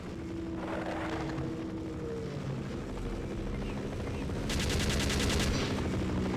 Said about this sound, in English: At least he's shooting it.